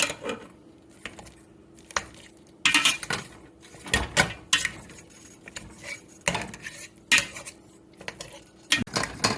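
Butter being worked into potatoes in a pan with a spatula for Irish colcannon potato cakes: repeated close scraping and clinking strokes in an irregular rhythm, with soft mashing between them and no speech.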